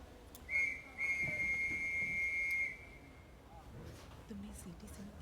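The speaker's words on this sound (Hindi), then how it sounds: "तुमने सीटी सुनी क्या?" A single sustained whistle from a children's train sounds for about two seconds at a steady high pitch, moderately loud over a noisy background of rumble and hiss.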